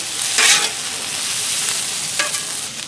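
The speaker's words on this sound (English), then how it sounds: "push the peppers over where the sausage was cooking to give them that flavor too" Peppers sizzling on a Blackstone griddle in the spot where kielbasa sausage cooked, a loud continuous hiss with two sharper bursts as they are pushed across the hot surface.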